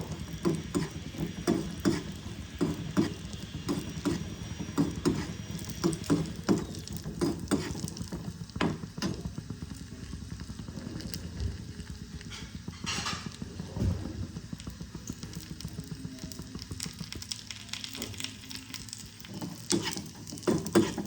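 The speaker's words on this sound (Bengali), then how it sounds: "ভালো করে লাল লাল করে ভাজবো।" Grated carrots fry in a pan for gajar ka halwa, a steady close sizzle with irregular ticking and clacking of a utensil against the pan throughout.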